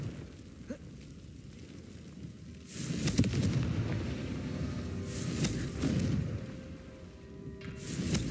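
Confringo blasting spells erupt as explosions in Hogwarts Legacy, three loud booming bursts a couple of seconds apart, each rolling off over a low background hum, with no talking.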